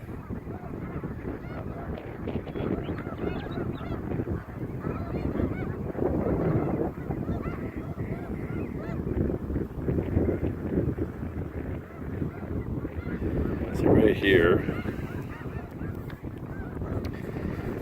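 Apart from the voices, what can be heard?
flock of geese honking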